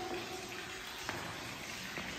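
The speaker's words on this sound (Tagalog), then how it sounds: "May dumadali yung tubig. Tapos yung ingay niya, oh." Rushing water at Geghard Monastery in Armenia gives a steady, broad hiss of flowing water, constant and moderately distant, with no talk over it.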